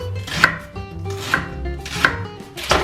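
Knife chopping serrano peppers on a board while cooking hot habanero chicken, with four sharp, evenly spaced strikes over gentle background music.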